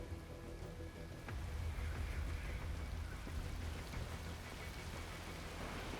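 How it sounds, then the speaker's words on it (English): Steady rain in the video game Metal Gear Rising: Revengeance patters and hisses over a soft, low rumble, continuous and fairly quiet throughout. "Also, it's raining, conveniently."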